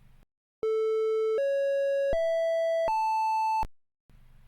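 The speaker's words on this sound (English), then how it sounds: "In sound mode, the directions are represented by notes." Four pure electronic tones step upward in pitch one after another, each held under a second, marking directions in a blind maze video game; a short, clean, beeping sequence.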